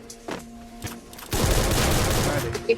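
Gunfire in the Free Fire battle game, a few sharp isolated shots followed by a dense continuous burst of rapid fire, loud and close, with excited gamer voices around it.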